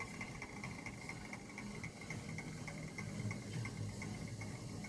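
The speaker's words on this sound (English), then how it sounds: "The start switches go back down as the fan spins down." An antique electric fan spins down with a steady mechanical hum and a faint repeating tick as its start switches drop back, close and even throughout.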